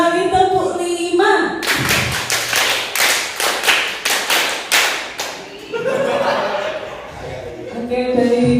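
A group at a school teacher training session claps a five-beat pattern twice, about a dozen crisp claps in rhythmic bursts, with voices talking before and after.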